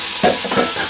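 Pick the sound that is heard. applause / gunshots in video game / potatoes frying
potatoes frying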